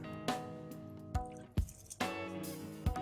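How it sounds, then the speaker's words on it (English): Soaked rice tipped into boiling water in a pot for mutton biryani, several separate plopping splashes and thuds spaced irregularly over a bubbling background, close and moderately loud. "Let's add in the soaked rice."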